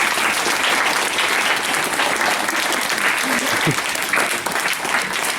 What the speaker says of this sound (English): give all your teachers a big round of applause